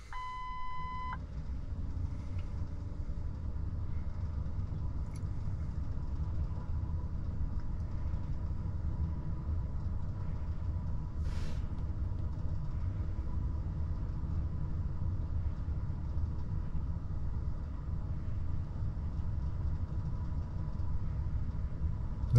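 A Ford car engine idles after being restarted, a low steady rumble with a brief electronic beep at the start, continuing evenly with no talk.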